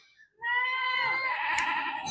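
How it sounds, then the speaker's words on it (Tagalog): A goat bleats loudly and close by in one long, wavering cry, with a second goat joining near the end. "Kambing natin, no? Iingay na."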